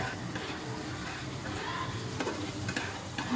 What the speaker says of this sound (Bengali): তো ভালোভাবে নাড়াচাড়া করবো পাস্তাটাকে, মশলার সাথে মিশে যেতে যায়।